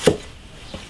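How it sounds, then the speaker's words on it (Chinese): A knife chops ginger on a cutting board for a beef brisket and potato dish: two crisp, close strikes, the first loud and the second softer, with quiet between them. "生姜切一点"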